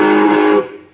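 Electric guitar played through a BG crunch amp model on a Zoom R24, a light high-wattage crunch tone; a single sustained chord rings loud for about half a second, then decays, with a faint new attack at the end.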